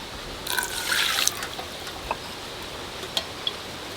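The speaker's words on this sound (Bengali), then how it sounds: "অল্প একটু জল দেবো।" A small splash of water pours into milk for rasmalai, a brief close trickle lasting about a second, followed by a couple of faint drips and ticks.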